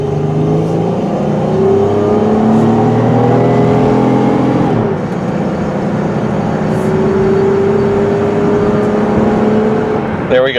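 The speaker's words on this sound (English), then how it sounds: "let you guys listen and watch as it shifts nice and smooth through the gears." A 2005 Dodge Grand Caravan SXT is pushed hard from inside, its engine droning loudly and climbing in pitch, dipping briefly at a smooth gear change midway before rising again under steady road and wind noise.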